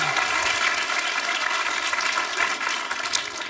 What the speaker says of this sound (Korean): 뜨거운 박수가 필요합니다.